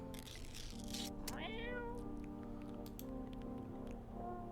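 Cat meowing in the video game No I'm Not A Human: a single rising, wavering meow near the start over a steady droning game background, with softer clicks and tones afterward.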